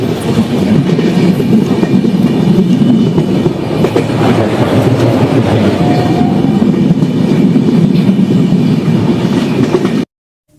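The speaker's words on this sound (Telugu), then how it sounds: "కేరళ ప్రకృతి ఒడిలో సాగిన ఈ రైలు ప్రయాణం" Train running through the green Malabar countryside of Kerala on the Ernakulam to Kozhikode route, a loud steady rumble with rhythmic wheel clatter filling the whole stretch before cutting off abruptly near the end.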